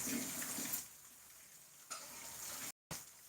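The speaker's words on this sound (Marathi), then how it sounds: "भरपूर पाऊस चालला आहे" Steady, dense rushing of heavy monsoon rain in Gangakhed, falling for a full day, loud and continuous, with a short dropout near the end.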